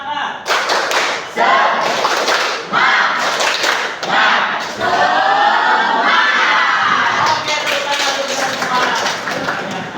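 A class of schoolchildren performing the 'tepuk semangat' spirit chant, with loud bursts of rhythmic group clapping alternating with energetic shouted chanting, close and filling the room.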